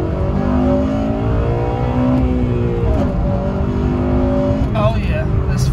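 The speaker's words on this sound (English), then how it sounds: "I'm just gonna get into VTEC off of this merge and let's hit it." Loud, close engine of a 2008 Honda Civic Mugen Si revving up through the gears into VTEC on a merge, rising pitch sweeps repeating, with someone talking over the engine noise.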